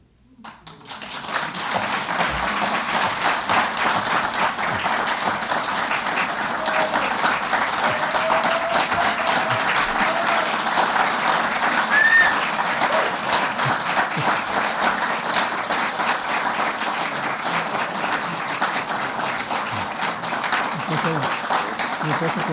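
Audience applause fills a prize ceremony hall, sustained and dense for over twenty seconds, many hands clapping steadily at an even, fairly loud level with a faint murmur of voices underneath.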